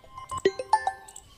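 A mobile phone ringtone plays a short, clear electronic melody of a few distinct tones, moderately loud and close, with no speech.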